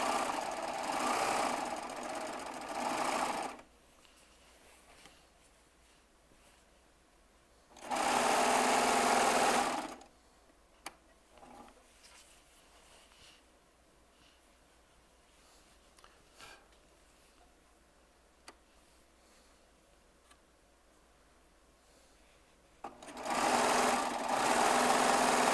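A Baby Lock Triumph serger runs in three short bursts of rapid, buzzing stitching separated by long quiet stretches with faint handling noises.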